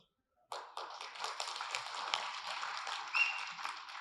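An audience in a hall breaks into applause, a dense, even patter of many hands clapping that starts suddenly and continues steadily for several seconds at a moderate distance.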